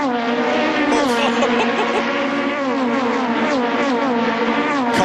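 Aussie Racing Cars roar around the Adelaide street circuit in 2011, several engines screaming at high revs together, pitch shifting as they accelerate and pass, loud and continuous.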